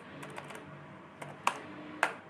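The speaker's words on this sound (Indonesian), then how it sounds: "Kita ketikkan perintah cat spasi" Keys clatter on a computer keyboard as a command is entered: a few quick light taps, a short pause, then two sharper isolated strokes, close and quiet.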